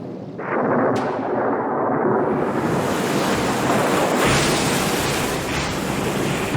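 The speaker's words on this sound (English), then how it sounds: "The torrential rain poured down without respite, and the earth slowly drowned." Flood waters and torrential rain make a dense, loud, continuous roar, like surging water and pouring rain together, with a brief sharp onset near the start and no talking.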